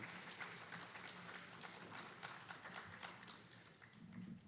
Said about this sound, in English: How about a round of applause for our next two finalists, Bill Sutherland and David Lapaco.